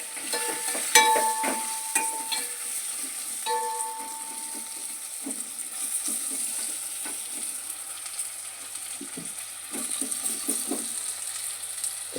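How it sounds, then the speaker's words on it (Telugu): Coriander powder being stirred into a curry in a pan, giving a steady soft sizzle broken by a string of scraping and knocking spoon strokes, close and moderately loud, with no talking. "వేసిన తర్వాత బాగా కలుపుకోవాలండి."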